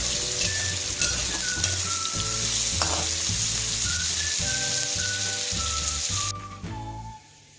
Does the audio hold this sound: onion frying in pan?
yes